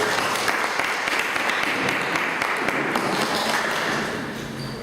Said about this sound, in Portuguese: Uma salva de palmas à nossa deputada Eva Gadeira.